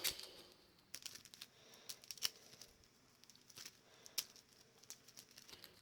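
Soft riffling and flicking of playing cards being shuffled for the board game Mage Knight, a few sharp crisp snaps among quieter papery rustling, close by.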